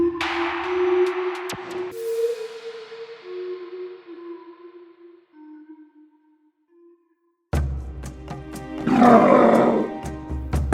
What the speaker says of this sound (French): Alexander subit une invasion de lions de mer en pleine saison des accouplements